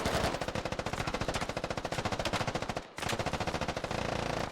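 Sustained automatic gunfire rattles in the video game Arma 2: Operation Arrowhead, a rapid, loud, evenly spaced burst that breaks off briefly, then resumes just as fast.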